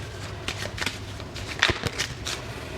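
A deck of dragon fortune tarot cards being shuffled by hand, a quick series of soft, papery riffling bursts close to the microphone, with no voice.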